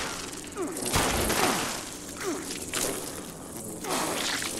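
Bursts of gunfire in the Fallout 76 game during a boss fight, a few dense volleys spaced a second or two apart over a steady background, with faint whooshing sweeps between them.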